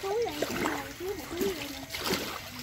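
Hot spring water runs from a pipe at a mineral spring bathing site, a continuous close splashing trickle under a person talking at length.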